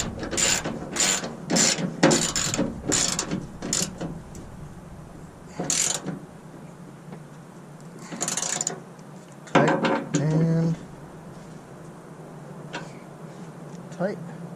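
A ratchet wrench tightens a ditch light bracket bolt on a third-generation Toyota Tacoma, giving bursts of close, rapid pawl clicks with short pauses between strokes.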